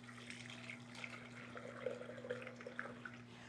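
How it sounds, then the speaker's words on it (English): Vanilla custard trickles through a strainer into a pouring cup, a soft, faint liquid pour with small drips and splashes over a low steady hum. "And now just strain the custard into a pouring cup."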